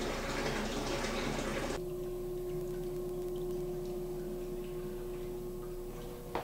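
Water drains fast through a one-inch EZ-T siphon in a flood-and-drain aquaponic grow bed, a steady gushing flow with a sustained tone, loud at first and then settling into a continuous trickling rush.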